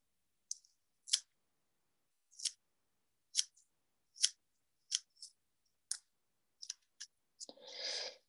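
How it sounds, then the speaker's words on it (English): Scissors snipping deer hair and bucktail while trimming the top of a saltwater hair bug fly, about ten crisp separate snips spaced through the stretch, close and clear, ending in a short rustle of hair, with no talk. "I'm gonna go ahead and trim the top."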